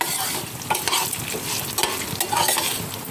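Beetroot and two dried red chillies are stirred in a hot pan, a spoon scraping and clacking in irregular strokes over a steady close sizzle, with no voices.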